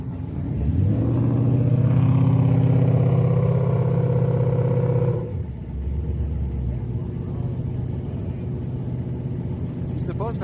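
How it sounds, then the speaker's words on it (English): A turbo car engine revs loudly nearby at a drag strip street night with a rising, throaty roar, then drops back to a lower rumble as the vehicle idles or moves off. "I hear a turbo car over here"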